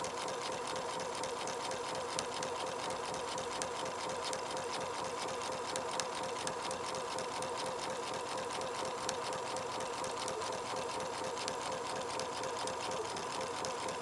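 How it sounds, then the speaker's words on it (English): A sewing machine stitches steadily along a diagonal line while piecing a fabric half-square triangle, a close, continuous mechanical whir with a fast even rhythm that runs unbroken throughout, no talking. "I'm going to start, take a little back stitch, go forward again, and just sew across on that line."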